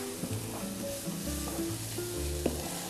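Garlic and grated carrots fry in a pan, giving a close, steady sizzle with a few scraping stirs and a brief clatter near the end.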